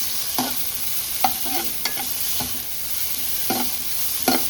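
Onions sautéing in a little oil in a pan and being stirred, with a steady soft sizzle and about six scraping stirs spaced through the clip, no voices.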